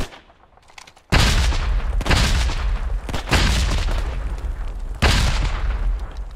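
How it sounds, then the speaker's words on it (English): Grenade blasts and gunfire in Hell Let Loose, a series of loud booming explosions close by, each with a long rumbling tail, following a quiet lead-in of about a second. "I'm grenading it."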